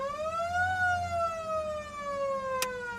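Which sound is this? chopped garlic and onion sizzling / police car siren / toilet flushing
police car siren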